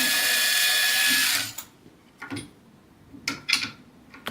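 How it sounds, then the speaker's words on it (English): An orthopedic double guide drill whirs steadily for about a second and a half, then stops, followed by a few light metallic clicks and taps. "We can also use this double guide drill."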